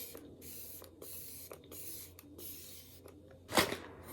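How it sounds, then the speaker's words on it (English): Benefit Professional setting spray hisses in a string of short, quiet bursts, several quick pumps followed by one louder, longer spray near the end, with no talking. "And then I have the Benefit, the Professional setting spray."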